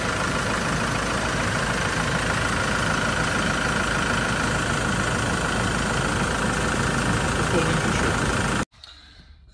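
A 2010 Land Rover Defender 90 County hardtop with a 2.4 TDCi diesel engine idles close by, a loud, steady clattering rumble that cuts off abruptly near the end.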